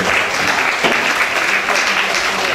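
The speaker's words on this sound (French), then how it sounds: "que vous pouvez applaudir bien fort s'il vous plaît" Audience applause at a Miss Oise 2019 candidate presentation to the press, a brief, loud, continuous burst of many people clapping.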